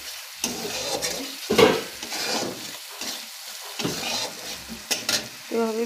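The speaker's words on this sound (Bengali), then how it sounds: "এভাবে বেশ কিছুক্ষণ কষিয়ে নেব।" Salted potatoes sauté in a pan for alu kosha: a soft background sizzle broken by irregular scraping strokes of a spatula against the pan, some sharper than others, close and moderately loud.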